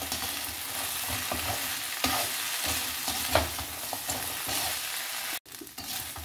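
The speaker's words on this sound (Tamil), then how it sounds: "சாஸ் எல்லாம் நம்மளோட ஃப்ரை இட்லி மேலே எல்லா பக்கமும் படுற மாதிரி நான் இந்த மாதிரி நல்லா பிரட்டி விட்டுக்கிட்டேன்" Fried idli is tossed and stirred in sauce in a hot pan, giving a steady sizzle with repeated scraping and stirring strokes, close and fairly loud, with no talk.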